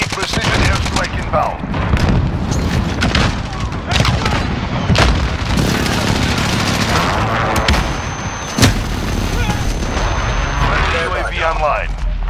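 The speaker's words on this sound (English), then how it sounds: "Enemy precision airstrike inbound." A precision airstrike in Call of Duty Modern Warfare on the Hackney Yard training map brings repeated heavy blasts amid dense, rapid gunfire, with voices talking throughout the loud, continuous battle noise.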